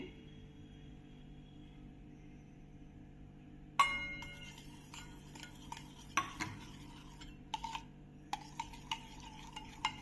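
Spoon stirring milk powder into milk in a pot for coconut mango basundi, soft scraping and clinking strokes in an irregular rhythm after a quiet hum, close and faint.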